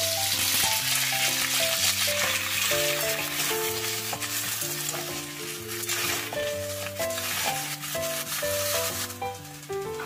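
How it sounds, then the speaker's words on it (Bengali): Cut amla (Indian gooseberry) sizzles and fries in a kadai with five-spice seeds and dried red chillies, a steady crackling hiss that continues throughout under background music. "আমলকিটা একটু ভেজে নেব।"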